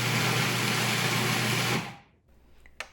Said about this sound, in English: In the bowl of the food processor, we're going to start by grinding up the bread.